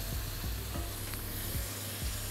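Bobotie ingredients fry in oil in a pan, giving a steady close sizzle with soft stirring scrapes and a few low knocks, no talking.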